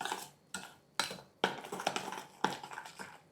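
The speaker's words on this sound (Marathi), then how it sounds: "आता यामध्ये ही साखर घालूयात आणि हे केशरचं दूध जे आपण तयार केलं मिसळायचं, चांगलं फेटून घ्यायचं." Sugar and saffron milk are whisked into strained yogurt for shrikhand, giving a close, rhythmic series of scraping and clinking strokes of a utensil against the bowl.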